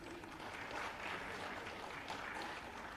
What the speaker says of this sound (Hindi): तंक पई आपण माने करताली देबे।